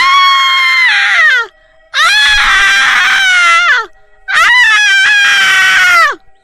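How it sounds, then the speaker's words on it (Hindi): A witch in a horror tale screams loudly in three long, high, wavering shrieks, each rising then sliding down, separated by short silent gaps. "चुड़ैल जोरों से चिल्लाने लगती है।"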